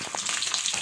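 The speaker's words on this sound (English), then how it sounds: "So we are going to fry them." Small pieces of beef for a sausage stew frying in a pan, a steady close sizzle and crackle with faint stirring, no talking.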